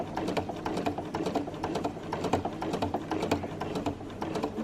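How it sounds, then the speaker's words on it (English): Rapid, even needle clatter from a sewing machine free-motion quilting in the ditch on a small heart quilt, running steadily up close with no talk. "this is probably going to be the most difficult part of free motion quilting, trying to quilt in the ditch"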